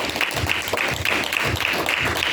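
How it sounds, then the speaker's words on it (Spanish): A church congregation claps in unison, rhythmic and fairly loud, giving applause to the Lord in a worship service with a rapid steady beat and no talking over it. "Dame un aplauso al Señor."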